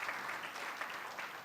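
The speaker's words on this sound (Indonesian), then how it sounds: "Yang percaya tepuk tangan yang panjang bagi Tuhan Yesus." A church congregation applauds at a Sunday service, a soft, steady wash of many hands clapping at moderate distance with no talk over it.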